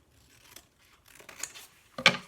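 Scissors snipping through creased paper while an origami box is cut, with soft scraping strokes and one sharper, louder cut near the end, heard up close and alone.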